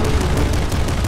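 A boss firing missiles in Nuclear Throne, a dense, loud barrage of blasts and rumbling booms filling the short moment with no pause.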